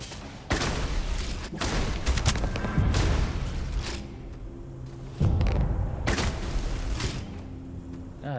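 Bursts of gunfire from a gun in Starfield, loud and close, come in rapid volleys with mechanical clanks between them and a pause before a second heavy burst. No one talks.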